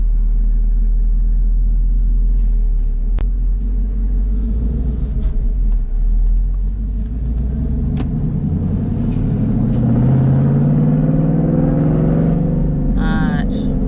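Engine rumble from a 2019 Whipple-supercharged Camaro SS 1LE fitted with long-tube headers, cold air intake and custom tuning, a steady deep idle that rises toward the end, with someone talking over it.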